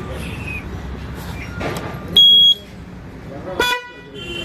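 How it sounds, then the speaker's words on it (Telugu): A melody horn fitted to a motorbike sounds during a wiring test, giving a short, bright, tonal blast followed a moment later by a briefer second toot over a steady background hum. "ఫస్ట్ ఒక హారన్ చెక్ చేద్దాం."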